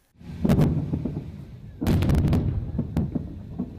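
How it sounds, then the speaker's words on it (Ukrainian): A rapid series of heavy booming artillery shell explosions near military depots in Ukraine, two rolling clusters of thuds and sharp cracks, loud and reverberant, with no voices. "гучної черги вибухів, снарядів і тривожних сирен"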